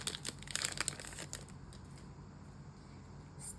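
A Pokémon Mewtwo booster pack is torn open up close, with a quick burst of crinkling foil and tearing in the first second and a half, then faint rustling and a brief crinkle near the end.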